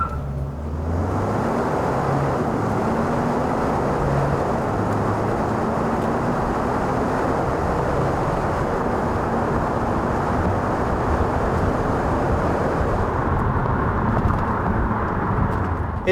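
A 2019 Kia Sedona minivan with a 2.2 liter diesel engine, automatic gearbox and front-wheel drive accelerates hard. A loud, steady engine and road drone holds for about sixteen seconds with no break.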